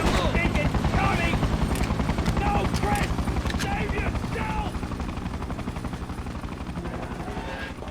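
Video game Freedom Fighters battle: rapid gunfire bursts crackle over the steady thrum of a helicopter, loud and continuous, with voices heard amid the action.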